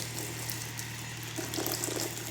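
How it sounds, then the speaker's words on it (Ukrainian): Hot water is poured over crab sticks, giving a steady, close rush of flowing water with no pauses and no voices. "Беремо крабові палички та заливаємо гарячою водою приблизно на 5-7 хвилин."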